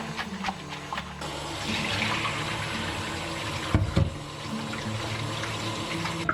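Tap water runs steadily into a sink as flour-coated pork liver is rinsed by hand, with a few louder splashes partway through and no talking.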